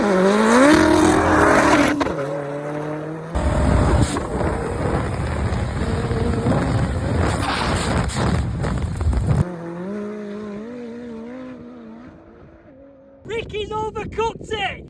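A 1000 hp Ariel Atom and a 1500 hp Nissan Skyline drag racing, heard as loud sustained engine roar that rises and shifts over several seconds, with a tone change partway through and a burst at the end, under an excited commentator's voice.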